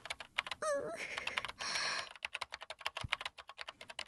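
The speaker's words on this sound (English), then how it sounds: "the sound of fingers hitting keys" Rapid clicking of fingers typing on a computer keyboard in the Chaos;Child visual novel, with dense key taps running throughout, briefly mixed with other game sounds and a short tonal chirp near the start.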